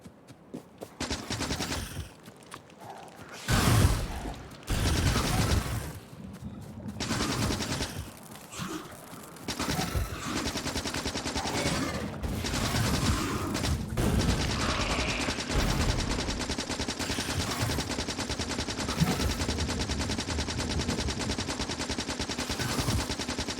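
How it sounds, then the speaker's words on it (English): Rapid gunfire in Factorio, rattling automatic bursts mixed with mechanical clanking, sporadic at first and then a nearly continuous dense barrage. "even though you can technically shoot at the same time"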